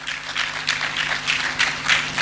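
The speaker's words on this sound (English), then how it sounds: "You have to clap for her." A conference audience applauds a woman, the executive director representing service providers, with steady, dense clapping from many hands for a couple of seconds.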